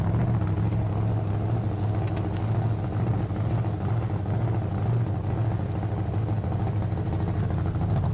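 A 5,000-pound four-wheel-drive van idles with a low, steady engine rumble as it rolls onto a Pelican case. The drone is close and constant, with no distinct impact.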